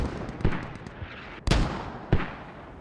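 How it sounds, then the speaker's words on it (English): Mortar rounds landing in a tactical shooter game, a series of deep, booming impacts arriving at irregular intervals, several lighter thuds early and two sharp, louder blasts later, each with a short rumbling tail, fairly close and with no talking. "And mortar's already coming down on this other fob."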